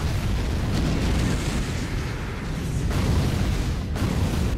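Booming explosion effect from a Beyblade film's special attack, a dense, loud, sustained rumble filling the whole clip with no voices.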